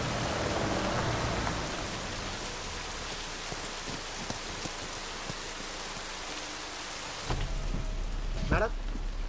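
Steady rain falling outdoors, a soft continuous hiss of drops at fairly low level with a few faint thuds and a brief louder burst near the end.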